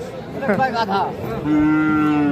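Sahiwal heifer calves and other cattle at a livestock market moo loudly and close by, one long low call following a shorter one, amid a faint crowd murmur in the background.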